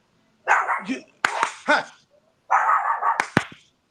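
A dog gives several sharp, yappy barks and whines in close bursts, with a person's voice speaking briefly among them.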